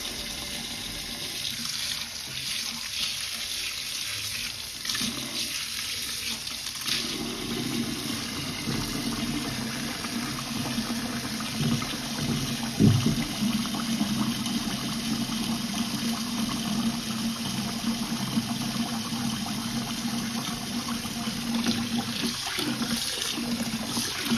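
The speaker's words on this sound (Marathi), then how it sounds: "हा चाळून निवडून स्वच्छ धुवून घ्यायचा आहे" Running water pours steadily into a vessel while sago pearls are rinsed clean, a close, continuous splashing flow with occasional stirring and swishing, and no voices.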